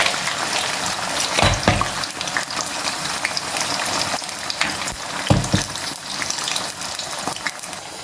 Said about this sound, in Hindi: भिंडी मैं डाल के इसको फ्राई कर लूँगी